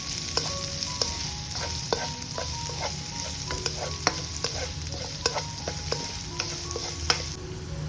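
Sliced onion and green chillies sizzle in hot oil with ginger and garlic for a chicken curry, while a spoon stirs and scrapes the pan in repeated sharp clinks over a steady fry hiss, close up, with no talking.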